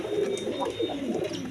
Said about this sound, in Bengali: হাই ফ্লাইং গিরিবাস কবুতর, দুইটা ডিম নিয়ে বসে রয়েছে